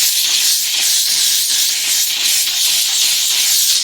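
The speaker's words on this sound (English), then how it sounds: "you have no choice but to get the steamer up in there" Steam cleaner blasting hot steam into a car seat belt, a loud continuous high hiss with slight pulsing, close and alone.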